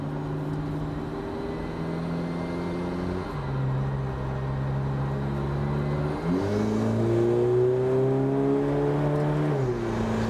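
A VW Caddy's 2.0 TDI CUAA diesel engine with 4Motion and DSG pulls hard in sport mode while driving, a loud steady drone that rises in pitch, drops at each gearshift and climbs again.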